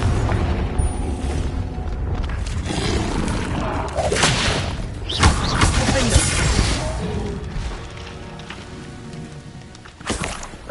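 Confringo blasting spell explosion in a Harry Potter video game, loud booming blasts and crashing bursts over a dense, busy game soundscape with spoken voices, several impacts spread across the clip.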